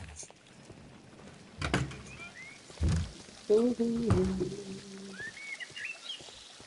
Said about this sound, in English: I like the birds tweeting.